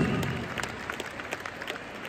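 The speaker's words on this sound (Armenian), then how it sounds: "մի հատ բարձր ծափարենք ու շնորհակալություն հայտնենք նրանց նվիրան աշխատանքի համար" A crowd at a solo concert in a shopping mall garden applauds on-duty doctors with a steady, fairly distant patter of clapping that slowly thins out.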